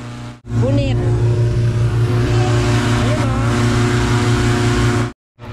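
A hot air balloon burner roars continuously in Cappadocia, a loud, close, steady blast of flame that cuts off abruptly near the end, with a short gap of quiet before it.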